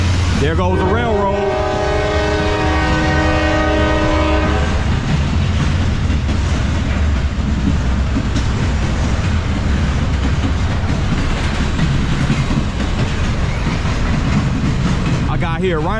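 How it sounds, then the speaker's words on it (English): A Norfolk Southern freight train rumbles steadily past, its horn sounding briefly at the start, followed by a continuous heavy roar of wagons on the rails. "The freight train."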